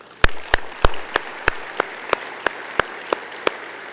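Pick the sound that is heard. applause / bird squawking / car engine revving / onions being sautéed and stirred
applause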